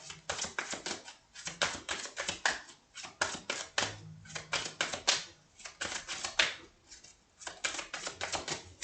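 Tarot cards being shuffled and drawn at a tabletop reading make rapid, crisp papery flicks and taps that run continuously in dense bursts with short pauses, close and fairly loud.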